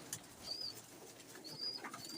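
Pigeon chicks call faintly among cooing pigeons in a loft, short high peeping notes repeating at intervals over soft background noise.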